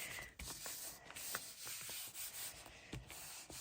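Paper rubbed firmly over an inked rubber stamp for ghost stamping, giving a steady close scratchy rustle with short strokes and small taps, faint and without speech.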